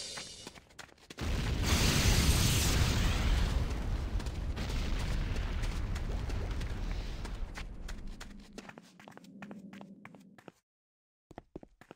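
Massive broadband blast from a structure's destruction in the game Renegade: a sudden loud roar that rumbles on for several seconds, then breaks into scattered crackles and debris before cutting to silence.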